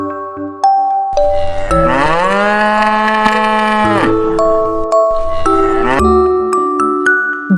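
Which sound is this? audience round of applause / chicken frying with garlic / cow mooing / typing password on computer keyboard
cow mooing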